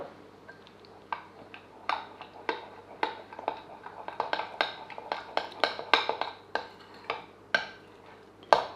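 Sourdough starter being stirred in a container, a run of quick clinking scrapes and taps of utensil against the sides, irregular in rhythm and fairly close.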